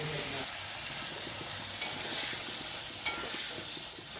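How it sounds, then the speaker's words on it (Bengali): Cauliflower florets fry in a pan on Ekadashi, giving a steady, soft sizzle with faint stirring and two brief clinks of a utensil. "তো ওই ফুলকপিগুলো ভেজে নেব"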